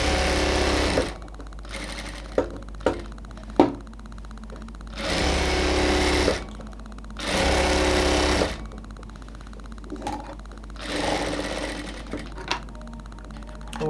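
A sewing machine stitches a dress made from a sari in several loud, steady bursts of rapid whirring, separated by pauses with clicks and handling noises.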